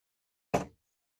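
The hard-side door of an Odyssey flatbed camper, a double door with a mesh screen, opens with a single short, close clunk, then silence.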